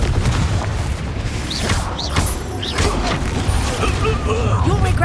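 Confringo blasting spells go off during a Hogwarts Legacy fight, loud booms and crashing impacts amid clanking, creaking mechanisms and faint combat chatter.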